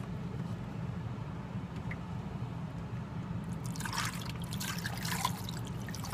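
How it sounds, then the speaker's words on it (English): Quiet room hum, then water begins pouring into a crock pot partway through, a splashing stream that continues to the end. "And now I'm going to fill this guy with some water."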